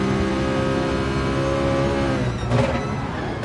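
A Citroen race car in a racing game holds a loud, steady engine drone at high revs, dipping briefly as if shifting gear before pulling hard again.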